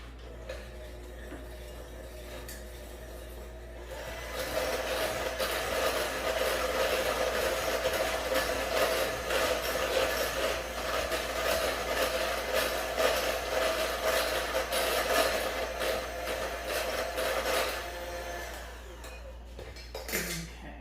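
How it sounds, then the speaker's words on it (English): Electric beater whisking eggs, sugar and oil into a chocolate cake batter, a steady high motor whir running for about fifteen seconds between quieter stretches, close and continuous with no talk. "Use a whisk or an electric beater."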